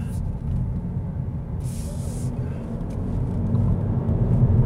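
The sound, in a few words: 2022 Honda Civic Sport driving through a roundabout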